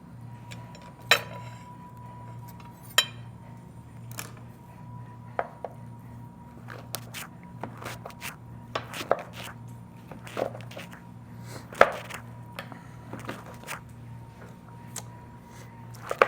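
A knife rough-chopping dried-out mushroom stems on a cutting board, sparse sharp taps spaced irregularly over a low steady hum, fairly faint and without talk.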